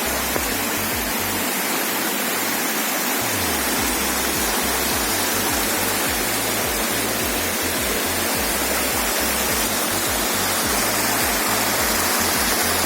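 A mountain stream rushes steadily nearby in a mossy forest, a dense continuous roar of flowing water with no pauses or voices, on a descent from Mount Stij in the Ukrainian Carpathians.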